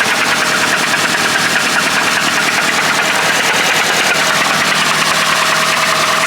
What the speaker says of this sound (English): we got it started, the Malibu, and the engine is doing knock, knock, knock, knock, knock.